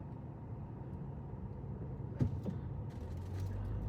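A truck moving through busy four-lane road traffic, a steady low rumble of passing vehicles with a brief louder knock midway and engine noise building toward the end.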